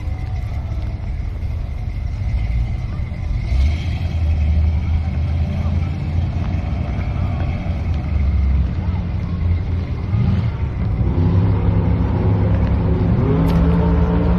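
A drag racing car at a nostalgia drags event at Willowbank Raceway, Australia, idles with a deep, grunty, throaty rumble, then revs up with rising engine pitch near the end, loud and close.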